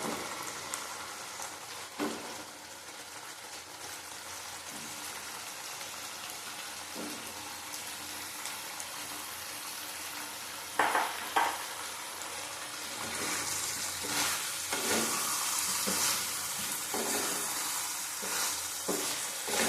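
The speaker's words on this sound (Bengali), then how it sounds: "লাউ নিমচি ডুম ডুম করে কেটে লাউটা দিয়ে দেবো নুনটা পরে দেবো আমি" Chopped bottle gourd frying in a pan with shrimp, a continuous rain-like sizzle with occasional stirring scrapes, growing louder and busier toward the end.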